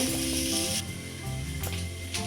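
Grated carrots sauté in a hot pan, a dense continuous sizzle with occasional scraping stirs, close and loud.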